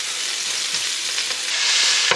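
Pork tenderloin sears in a hot pan with a steady bright sizzle, close and continuous, growing a little louder near the end with a brief sharp spike.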